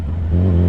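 A Yamaha R6 sport bike's engine rises in a quick, loud rev close by, the pitch climbing sharply within a brief burst.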